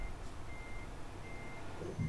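Truck reversing beeps in a video game, a faint, short run of steady electronic tones set against low background rumble.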